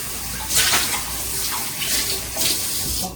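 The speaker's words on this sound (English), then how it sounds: "Let me just get my container nice and rinsed out." A food container rinsed under running tap water: a steady, loud rush of water with splashy surges as the container moves under the stream, close up and without talking.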